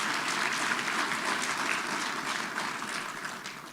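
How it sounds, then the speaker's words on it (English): Dense, steady applause fills a gala dinner awards hall, a crowd clapping continuously at moderate level before tapering slightly toward the end. "Yes, we can give a round of applause to that."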